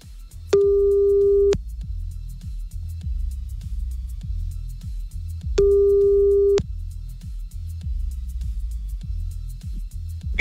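Two loud busy-signal tone bursts, each about one second long, sound during a callback in a French radio prank call, over a low rumbling background.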